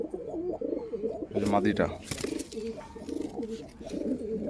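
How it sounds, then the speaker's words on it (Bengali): Domestic pigeons kept at home coo in soft repeated throaty bursts close by, while someone talks over them throughout. "আমার ঘরের পায়রা।"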